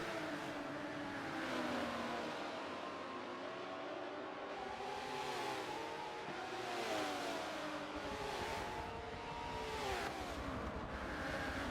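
GT race cars in a sim racing spec-series event roar continuously, engines rising and falling in pitch as they rev through gears and overlap one another, with no voices.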